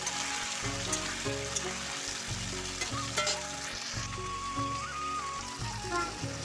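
Taro corms fry in hot oil tempered with five-spice seeds, a steady close sizzle and crackle with some stirring scrapes throughout, faint tonal background music running beneath.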